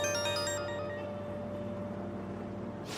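A phone ringtone chimes at close range for an incoming call from her father in Persona 5 Royal, a bright repeating melody that rings for about half a second and then fades into a steady low hum.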